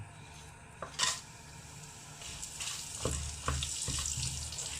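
Spices sizzle in hot vegetable oil in a wok while a utensil stirs them, with soft frying hiss broken by several scraping clinks against the pan, fairly quiet and without talk.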